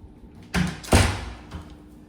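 Iron door in a beachfront apartment in Nha Trang, Vietnam, being opened or closed: two heavy, close thuds in quick succession, then a softer knock, with a quiet room in the background.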